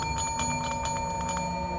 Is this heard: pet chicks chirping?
no